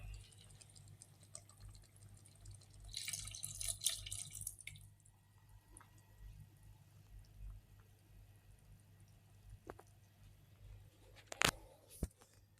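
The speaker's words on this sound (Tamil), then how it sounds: "இதில் நம்ம கரைச்சி வச்சுருக்கிற புளி தண்ணி அதில் ஊற்றிடுவோம்." Tamarind water poured into an eggplant and drumstick curry, a short splashing burst early on over a steady low kitchen hum, followed by a few faint drips and clinks.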